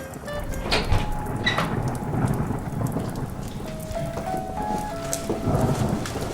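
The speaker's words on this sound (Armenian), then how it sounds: "ես ինչ անձրև ա գալի" Heavy rain pours steadily on surfaces outdoors during a thunderstorm, a dense continuous hiss with scattered drips and a low rumble of thunder, with no talk.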